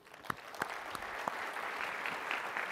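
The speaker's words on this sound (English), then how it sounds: "please, a round of applause for the sound and video crew" Audience applause at the close of a Google Cloud Next '18 conference session, a sustained wash of clapping from a seated crowd with a few sharper claps standing out, moderately loud and steady throughout.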